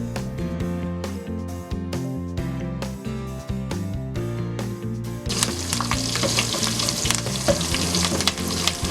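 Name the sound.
onions and curry leaves frying in oil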